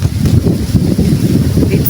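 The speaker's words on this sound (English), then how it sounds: "It's so windy." Wind gusts through a backyard garden, buffeting the microphone with a continuous low rumbling roar that rises and falls slightly from moment to moment, loud and close, with no clear speech.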